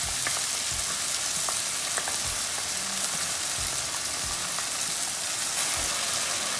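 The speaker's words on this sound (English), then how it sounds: "Now goes in the white sauce that I prepared." White sauce going into a pan of cooking pasta with garlic powder, a soft steady bubbling sizzle with a few low thuds and light clinks of stirring, no voices.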